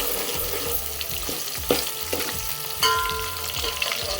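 Finely chopped onion fries in a pan with a continuous sizzle, while repeated stirring strokes scrape and clink against the metal, a few of them sharper and louder.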